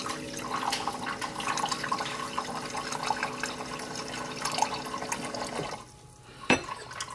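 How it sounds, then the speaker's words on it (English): Acid water pours out of a PWI-2100 hybrid portable water ionizer in a steady trickling stream, quite faint and close, then stops near the end and is followed by a single sharp click. "all I have to do is press the start button, and the acid water is dispensed"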